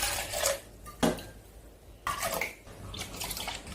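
Water is poured in short splashing bursts to rinse finely ground rice for Korean royal milk porridge, tarak-juk, with about four distinct pours close by and quiet gaps between them.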